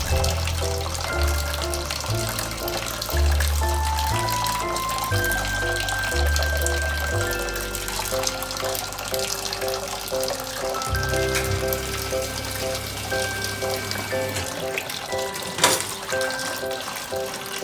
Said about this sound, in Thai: สำหรับเปลือกไข่นะครับเพื่อนๆผมจะนำมาล้างทำความสะอาดให้เรียบร้อยนะครับ